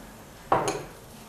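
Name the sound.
stirring salted water with asafoetida in a pot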